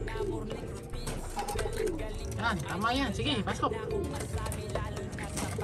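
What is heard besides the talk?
pigeon cooing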